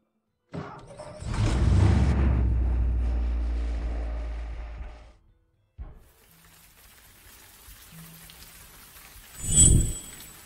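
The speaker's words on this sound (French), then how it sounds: "Il pleut." Rain falls on a late evening: a heavy, full-bodied wash swells in, holds for a few seconds, then cuts off, leaving a faint patter with a short dull thump near the end. No one speaks.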